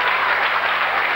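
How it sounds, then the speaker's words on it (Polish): Loud, dense audience applause for an ensemble after a stage performance, a continuous close roar of many hands clapping with no pauses. "Wielkie brawa, tak jak możemy."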